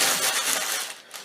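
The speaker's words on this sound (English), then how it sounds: "You hear crumpling paper" Paper is crumpled and crinkled close up, a dense run of crackling rustles that fades near the end. No one speaks.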